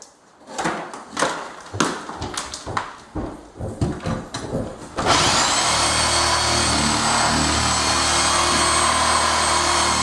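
Several sharp knocks and bumps, then a loud Sawzall reciprocating saw starts up at about the halfway point and runs steadily with a harsh buzzing drone while taking apart a fridge.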